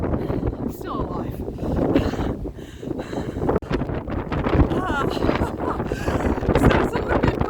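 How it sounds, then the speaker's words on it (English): Gusty wind buffeting the microphone at a coastal lookout in Stanley, Tasmania, a continuous rumbling roar close to the mic, with someone talking over it. "It's a little bit breezy here today."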